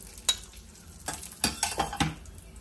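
Vermicelli (semiya) frying in a pan for payasam and being stirred, giving a handful of sharp scraping clinks over a faint sizzle, close and without talk.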